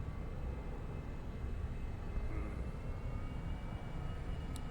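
Steady, loud airliner engine drone from a default plane in the X-Plane 11 flight simulator, a continuous broadband roar with low rumble holding evenly throughout, no talking over it.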